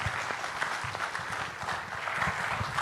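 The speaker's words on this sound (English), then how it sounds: "But truly, Lalan Singh Ji, I think we all would like to express to you very loud applause and vote of thanks for your leadership." An audience at a seafood exports workshop gives dense, continuous applause, loud and steady throughout, with a few voices faintly underneath.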